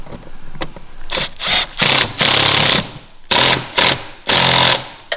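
An impact wrench fitted with an 8mm socket, working on a Chevrolet Silverado during a fog light harness install, hammers out several loud, rattling bursts, each a second or so long, close to the listener.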